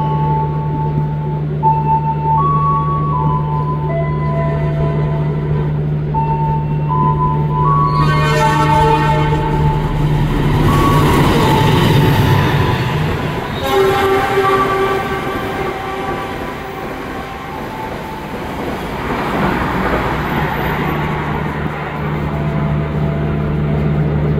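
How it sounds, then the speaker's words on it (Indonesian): The Gunung Jati passenger train rolls through a station in Indonesia with a loud, sustained rumble and clatter, a horn sounding as it passes, then the noise fades. "kereta api Gunung Jatinya mau lewat"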